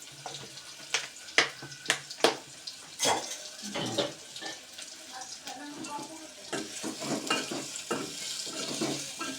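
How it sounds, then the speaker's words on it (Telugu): Tempering seeds crackling and sizzling in hot oil in a home kitchen, with several sharp pops early on followed by a softer continuous fry and faint clatter, under occasional talk. "కొద్ది తాలింపు గింజలు వేస్తుంది"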